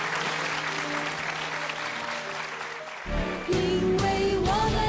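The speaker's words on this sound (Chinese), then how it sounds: "我建议我们全场的朋友用掌声来表达我们的敬意" An audience at a televised stage show claps in sustained, dense applause, with music swelling in beneath it partway through.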